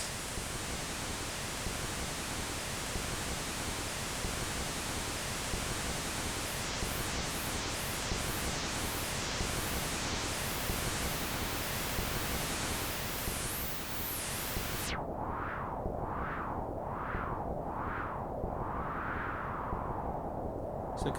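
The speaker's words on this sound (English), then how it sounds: "I can do some whooshing, stormy effects." Sustained white-noise hiss from a Realistic Concertmate MG-1 synthesizer, swept up and down in rhythmic whooshing waves like a windstorm, then filtered darker and sweeping on, loud and steady with no talk.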